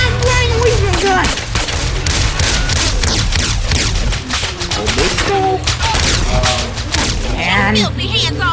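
Rapid gunfire from GTA San Andreas crackles steadily in bursts and single shots, loud and continuous, mixed with game music and someone talking over the action.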